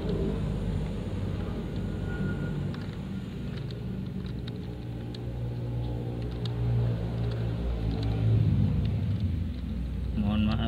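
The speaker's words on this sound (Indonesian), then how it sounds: "Mohon maaf, ini banyak suara kendaraan." Steady, low rumble of passing vehicle traffic that swells slightly toward the end, heard from indoors with a faint voice now and then.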